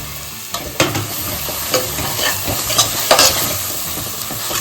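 Ginger garlic paste and cashew paste sizzling with tomatoes in a pan, a steady close frying hiss broken by several sharp scrapes and knocks of a stirring spoon.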